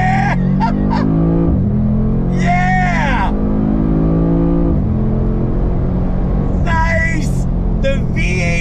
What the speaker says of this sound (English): The V8 rumble that you get from that bi-turbo V8 is ridiculous.